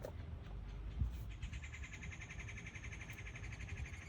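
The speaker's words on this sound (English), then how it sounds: "Listen to that bird." A bird sings repeated high chirping phrases at a steady rhythm over a low rumbling background, moderately faint and at some distance.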